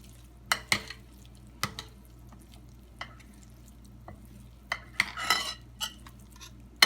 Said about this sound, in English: Stir it around till you have your desired yumminess